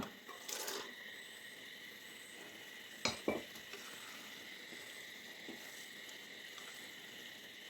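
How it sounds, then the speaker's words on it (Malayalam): Cooked kidney beans go into a simmering masala gravy in a pan, with a steady soft sizzle and a couple of sharp spoon scrapes and clinks as the mixture is stirred, no talking. "ഇട്ട് കൊടുത്ത് ഈ രാജ്മ ഈ ഗ്രേവിയുടെ മസാലയൊക്കെ നല്ലതുപോലെ പിടിക്കുന്ന വിധത്തിൽ ഇളക്കി കൊടുത്തൊന്ന് തിളച്ച് വരണം"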